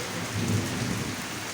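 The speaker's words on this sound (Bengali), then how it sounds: "ওই যে বৃষ্টির শব্দ আকাশে যে বিদ্যুৎ চমকাচ্ছে" Nighttime rain in a thunderstorm: a constant hiss of falling water with a brief low rumble of thunder swelling beneath it.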